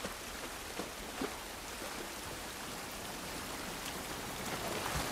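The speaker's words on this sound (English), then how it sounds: "This rain ain't gonna do us any good." Steady rain pours outdoors in the video game The Last of Us Part I, a dense continuous hiss with scattered louder drips and splashes, no voices.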